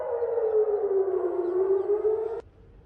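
A civil defense warning siren wails in Eilat, Israel, a loud sustained tone slowly falling in pitch for over two seconds before cutting off abruptly into quiet background.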